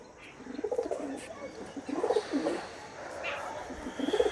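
Pigeons cooing nearby in soft, repeated throaty bursts, several calls spread over a few seconds against a quiet background.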